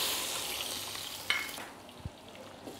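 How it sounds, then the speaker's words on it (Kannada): Chopped onions fry in hot oil in a pot for mutton sambar, a bright dense sizzle that fades partway through, leaving a quieter hiss with a couple of soft knocks. "ಒಂದು 1/2 kg ಹೆಚ್ಚಿಕೊಂಡ್ರೆ ಈರುಳ್ಳಿ ಹಾಕ್ತಾಯಿದ್ದೀನಿ"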